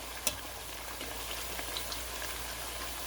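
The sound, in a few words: thin sweet potato slices frying in hot oil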